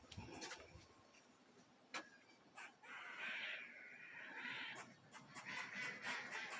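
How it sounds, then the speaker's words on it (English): Ducks quack outdoors, somewhat distant, in a few short bursts with quieter gaps and some other birdsong around them. "The ducks are talking."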